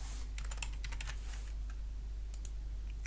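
Computer keyboard key presses while working in CLO3D pattern software, a burst of quick close clicks in the first half, then a few scattered taps over a steady low hum.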